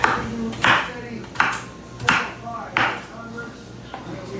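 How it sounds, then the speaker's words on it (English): A kitchen knife chops vegetables for a fall beef stew on a board, five or six distinct close chops at a steady, unhurried pace with faint background hum. "not perfect knife cuts, guys. I'm not going to win an award on my knife cuts today"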